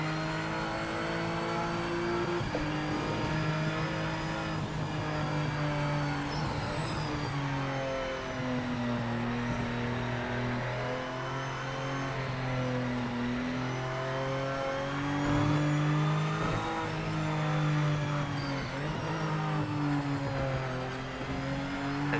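Race car engine in the Project Motor Racing sim, a loud, steady drone that holds near and close throughout, its pitch rising and falling in long sweeps as the car lifts off and gets back on the throttle through corners.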